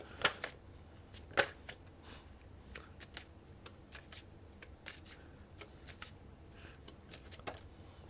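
Tarot cards being shuffled by hand during a reading, a close, quiet series of crisp riffles and slaps in an uneven rhythm, with no speech.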